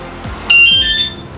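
A ROCKBROS bicycle alarm beeps on suddenly with a shrill high electronic tone that holds and wavers for about a second over low background rumble.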